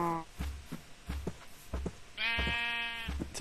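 A sheep in the video game Minecraft lets out a loud, buzzy bleat near the end, following low rhythmic thumps and a short earlier bleat, with someone talking in German over it.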